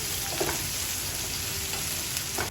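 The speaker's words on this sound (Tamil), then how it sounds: "வெங்காயம் நல்லா கலர் சேஞ்ச் ஆகிற வரைக்கும் நல்லா வதக்கிக்கோங்க." Chopped onions sizzle and fry steadily in a hot pan while being stirred, a continuous close crackle with no talking over it.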